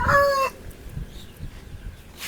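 A rooster gives a brief crow at the start, fairly close and loud, then fades into quiet farmyard background rustle.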